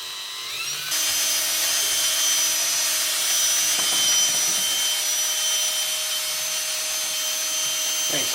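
A power drill bores into an exhaust pipe in a garage, starting after a short pause and whining continuously at a steady pitch, loud and close, with faint rattles.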